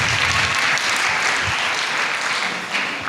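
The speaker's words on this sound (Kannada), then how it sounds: "ಜೋರಾಗಿ ಚಪ್ಪಾಳೆ ತಟ್ಟಬೇಕು." An audience claps loudly together at a Christmas celebration and cultural program. The applause is dense and continuous, close and full, and lasts the whole few seconds with no talking over it.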